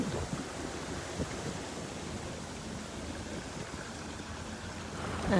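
Sea waves wash and rumble at the shore in a steady, soft surf roar, mixed with wind buffeting the microphone. The sound stays even throughout, and no one speaks.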